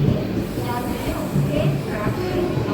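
A Chennai Egmore-bound train from Kanyakumari pulls away after an overtake, giving a loud, steady low rumble and rolling rail noise with a faint hiss, and someone talks over it.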